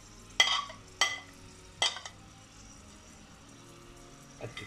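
Onions and garlic ginger paste fry quietly in a pan, with three distinct stirring scrapes over a low, faint sizzle.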